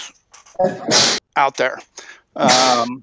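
Someone sneezes sharply during an online developers' meeting, with a short burst and a second louder one between snatches of nearby speech.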